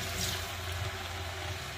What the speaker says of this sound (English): I will add a little bit of water.